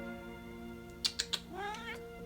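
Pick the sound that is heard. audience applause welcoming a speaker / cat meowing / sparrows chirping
cat meowing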